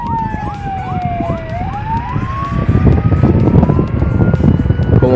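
Police and ambulance sirens wail with rising and falling sweeps, loud and close, over a busy street din during a carnival cavalcade parade in Paso del Macho, Veracruz.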